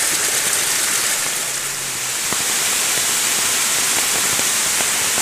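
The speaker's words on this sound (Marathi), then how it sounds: "ओढ्याचा जो आवाज येतोय ना, एकदम भारी" A small babbling stream runs through Konkan forest during light rain, giving a loud, steady rushing hiss of water with a few faint drip ticks, no voices present.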